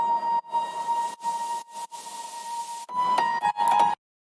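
Piano sample from original song stems, processed in Ableton into a sustained, whistle-like tone over hissy texture, interrupted by several abrupt cuts and ending with a brighter, busier passage before stopping.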